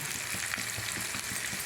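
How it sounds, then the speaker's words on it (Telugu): Thinly sliced large onions sauté and soften in a hot pan, giving a steady, close sizzle with faint stirring crackles and no talking. "ఇవి 1 నిమిషం మగ్గాక నేను మీకు చూపిస్తాను. చూసారా, ఇలా మగ్గుతున్నాయి అన్నమాట."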